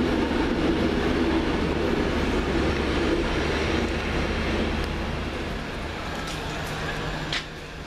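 A train rumbles loudly and steadily as it departs Crewe station toward Chester, then gradually fades slightly as it pulls away, with a brief clunk near the end.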